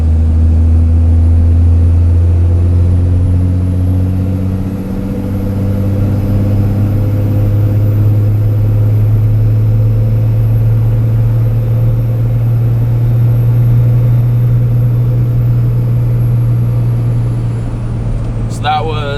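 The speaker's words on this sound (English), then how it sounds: "I'll shut up and just let you hear the truck." A Cummins 5.9 diesel pickup with an S&B intake pulls uphill with a deep, steady drone that rises in pitch, loud and continuous from inside the cab.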